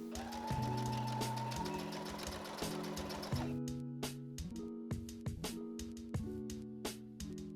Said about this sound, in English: I'm going to sew very carefully right here